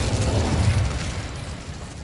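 An Incendio fire spell goes off in Hogwarts Legacy on PS5, a loud, dense roaring burst of flame that rumbles steadily and then tapers slightly, with no voices over it.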